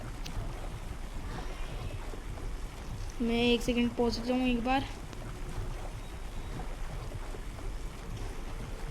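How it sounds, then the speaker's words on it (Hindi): A boat sails across water in the video game Blox Fruits, giving a steady, faint wash of water and wind throughout. Someone speaks briefly over it midway. "इसमें तो पानी की भी आवाज़ एकदम सही लग रही है"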